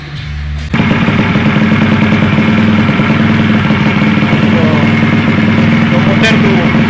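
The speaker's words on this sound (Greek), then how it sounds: "Το μοτέρ του ακούγεται υγιέστατο." Motorcycle engine fitted with a Takegawa Plus-R 4SM 59mm bore kit idles steadily and close up after a brief lower start, a dense rhythmic mechanical clatter running continuously throughout with no voices over it.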